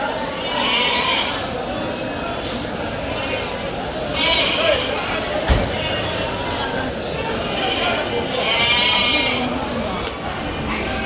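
Several sheep bleat repeatedly, some close and loud, amid busy chatter and voices of people nearby at a crowded outdoor weekly sheep market in Angallu.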